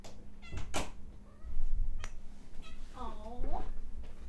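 A pet cat meows at a door indoors, a few short close calls in between a person talking, with a faint knock or door sound.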